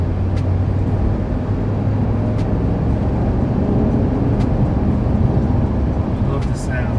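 2020 Dodge Ram 1500 pickup with a 5.7L Hemi V8 driving, a steady loud engine drone and road noise from inside the cab, with talk over it.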